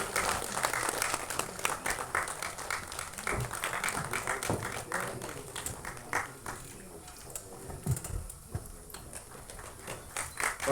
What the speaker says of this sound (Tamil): ஒரு பலத்த கைத்தட்டல் கொடுத்துடலாம் ப்ளீஸ்